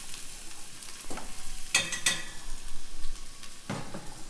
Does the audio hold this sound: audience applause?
no